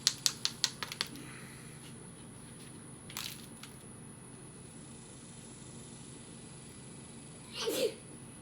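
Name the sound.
sneeze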